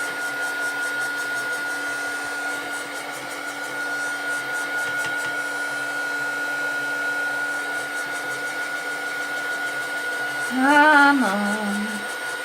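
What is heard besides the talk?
heat gun drying glue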